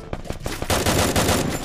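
Gunfire in the mobile battle game Free Fire: loud, rapid bursts of automatic shots crack one after another, with a few quicker single shots first and then a dense, continuous volley near the listener.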